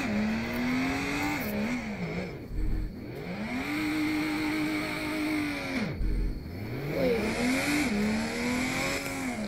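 Car engine in the video game Driving Empire revs up and down repeatedly, the pitch climbing and dropping in long sweeps with brief gaps between gears, loud and close with some tire noise.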